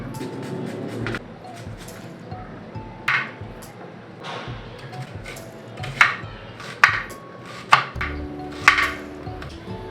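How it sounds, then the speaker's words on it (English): Onions and spices chopped on a board in a home kitchen: sparse, sharp knife strikes, several distinct hits spaced irregularly, with background kitchen hum. "Let me just chop the spices up, the onions."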